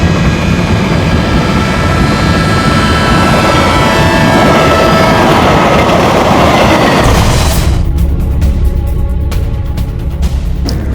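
A train runs along a railway track near a station in Pune, a loud, continuous rumbling roar up close that changes character partway through as the cars pass.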